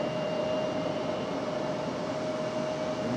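A JetBlue airliner rolls out on departure at Raleigh-Durham International, a steady distant engine roar with a faint high whine running evenly throughout, no voices.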